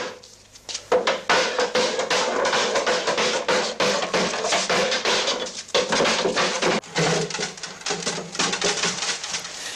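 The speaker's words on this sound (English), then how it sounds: "forced into a tight fit by hammering a steel hoop firmly over the timber" A steel hoop is hammered down over timber barrel staves in rapid, steady, ringing blows that continue for nearly ten seconds with only brief pauses.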